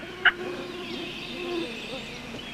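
A wild turkey gobbler gobbles once, distant and brief, on a quiet outdoor hunting setup along an old logging road, followed by faint ambient birdsong and hush.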